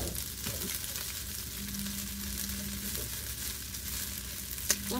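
Vegetables and pre-boiled yakisoba noodles frying in a pan, a steady close sizzle running throughout with a faint low hum and a sharp utensil tap near the end.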